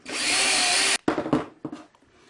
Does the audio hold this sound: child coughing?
no